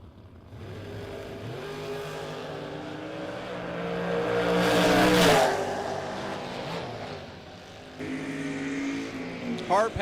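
Drag race launch of a Chevelle and a 57 Bel Air at a bracket event, loud engine roar building to a peak and fading, then a second surge of revving, heard from trackside with a crowd-like wash.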